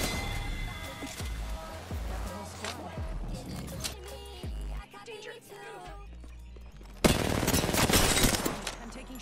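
Gunfire in Apex Legends, bursts of rapid shots and scattered single cracks mixed with game effects, with a loud heavy volley near the end and a player talking over it.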